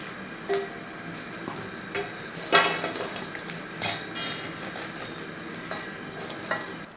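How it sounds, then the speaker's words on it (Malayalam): Dried Kashmiri chillies frying in coconut oil for a colocasia stem curry, with a soft sizzle under scattered sharp clinks and scrapes of a spoon stirring against the pan, close by. "അപ്പോൾ മുളക് ഇതേപോലെ ഒന്ന് വറുത്തെടുക്കുക."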